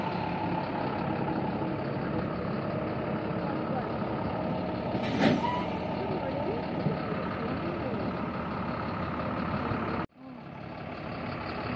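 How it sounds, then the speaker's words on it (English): A bus pulls up with its diesel engine rumbling steadily and a sharp hiss of air brakes partway through, heard at a moderate distance outdoors while people talk. "Here comes the bus."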